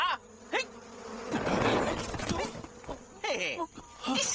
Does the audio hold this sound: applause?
no